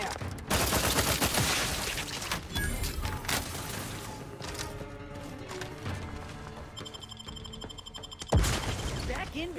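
Gunfire in the video game Outer Worlds 2: dense bursts of rapid shots and impacts crowding together, loud and continuous with a final sharp blast near the end, mixed with game effects and brief voice.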